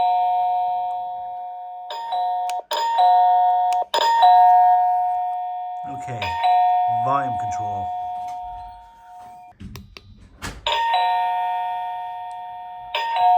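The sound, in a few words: cheap Amazon doorbell chime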